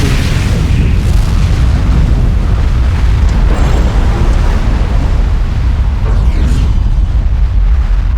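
A nuclear missile detonation in the real-time strategy game Command & Conquer 3 rumbles as a loud, sustained deep boom across the whole span, with no voices.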